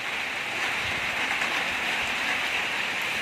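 Heavy rain falls outside during a storm. A constant, even wash of hissing downpour fills the whole stretch with no pauses and no talking.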